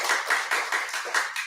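A church congregation claps during a Sunday morning service, with sharp hand claps in a quick, even rhythm of about seven beats. It sounds loud and close, with no voices.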